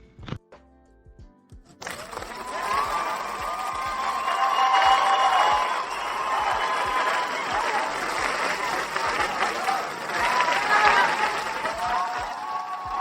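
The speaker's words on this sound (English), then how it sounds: "You hear all the applause." Audience applause at a live finance show: a sustained wash of clapping that starts abruptly after a quiet moment and continues steadily, with some voices and cheers mixed in.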